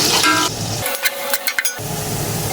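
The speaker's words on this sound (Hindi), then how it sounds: "प्याज को हल्का सा हम ब्राउन कर लेंगे।" Two medium onions frying toward light brown in a pan, steady sizzling hiss that cuts off briefly while a few stirring clinks sound, then the sizzle resumes; no talking.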